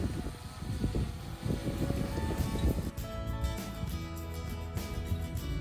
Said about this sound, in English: It's very windy, so it's pretty good actually.